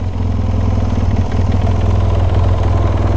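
A BMW F800 ST twin-cylinder motorcycle engine idles close up, a steady, loping low throb with a rhythmic beat and no talking.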